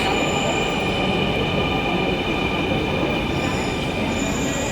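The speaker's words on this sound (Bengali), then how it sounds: "ট্রেন চলে এসেছে," A Dhaka metro rail train pulls into the station, a loud continuous rumble with a high wheel squeal and hum filling the whole stretch, close and steady.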